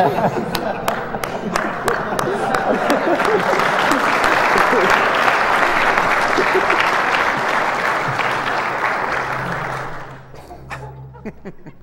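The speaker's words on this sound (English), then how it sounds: "Claps." A large audience at a speedrun event applauds continuously for about ten seconds, a dense, loud wash of clapping that fades out near the end.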